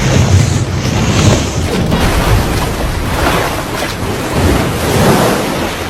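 Ocean waves and surf wash continuously near a deserted island, with steady broadband roar and gusty wind noise rising and falling throughout, no voices present.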